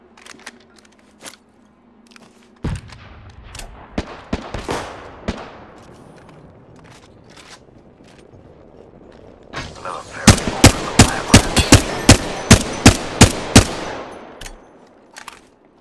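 Rapid bursts of gunfire in the Apex Legends battle royale game, scattered single shots early on, then a dense, loud rhythmic string of sharp reports near the end, with game sounds in between.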